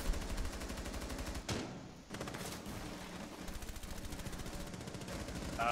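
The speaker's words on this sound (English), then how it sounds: "Someone's shooting in." Sustained automatic gunfire in Rainbow Six Siege on the Bartlett U map, quiet and somewhat distant, a steady rattling stream of shots with a brief pause partway through.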